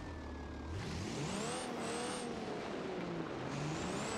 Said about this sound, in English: Sounds like it has a supercharger or turbo.